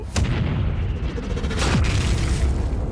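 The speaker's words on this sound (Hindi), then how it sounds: "ये धमाका तो बहुत बड़ा है।" A deep booming cannon blast erupts near the start, followed by a sustained roaring rumble, loud and close.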